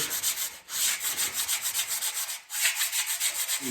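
Steady, rhythmic scratching of sandpaper rubbed back and forth over a wooden workbench, close up, with brief pauses between strokes.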